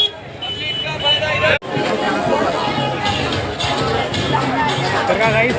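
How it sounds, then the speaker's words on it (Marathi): A dense crowd chatters at the Sunday Badlapur Raja fair during the Maghi Ganesh festival, a constant close babble of many voices with passing traffic, briefly cut off partway through. "आज रविवारी तर इतकी गर्दी आहे"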